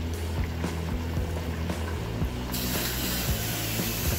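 Okra being stirred into a pan of tuna Bicol Express in coconut milk, steady wet sloshing and light scraping with a hiss of simmering, quiet and continuous.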